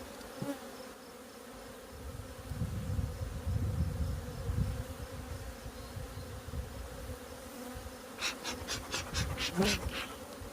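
Honeybees from a nucleus colony buzz in a continuous low drone, swelling louder midway, with a few sharp taps or knocks near the end as the frame is thumped.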